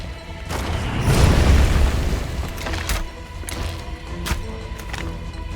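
Heavy booms and explosions hit in a video game as a turret fires, a big blast early followed by sharper bursts and pops at irregular intervals, loud with no talk.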